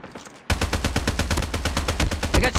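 Rapid automatic gunfire in a Fortnite-style shooter, a dense, loud burst of shots in steady rhythm after a brief quiet lead-in, with no voices.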